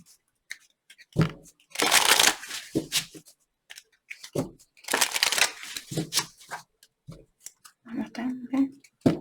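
A deck of Message of Love oracle cards is shuffled in repeated bursts of riffling and sliding, close and fairly loud, with brief pauses between bursts and a voice speaking in between.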